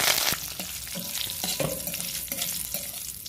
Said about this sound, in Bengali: এই তেলের মধ্যে এবার আমি কারি পাতাগুলো দিয়ে ভেজে নেব।